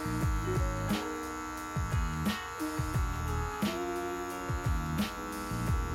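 Electric hair clipper cutting a medium taper fade, humming steadily with a tonal buzz that shifts in pitch as the blade presses into the hair in short repeated passes, close up, no talking.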